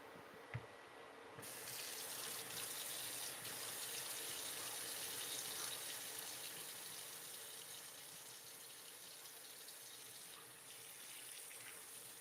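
Tap water runs steadily into a sink for a quick rinse during cooking of Chinese beef lettuce cups, a constant close hiss that starts with a soft knock and continues unbroken and fairly quiet.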